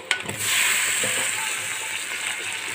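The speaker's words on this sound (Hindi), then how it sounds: "ये बड़ा अच्छी तरीके से फ्राई हो गया है तो हम टमाटर शामिल कर देंगे" Liver and lungs frying in a karahi sizzle with a steady broad hiss, a few clattering stirs and knocks near the start, then fairly loud, even frying for the rest.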